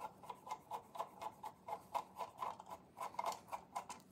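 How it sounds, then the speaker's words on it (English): Screws being turned out of a 16-segment display casing, a quiet, steady run of small ratcheting clicks close by, repeating about every quarter second with no voices. "It's only to remove 2 screws."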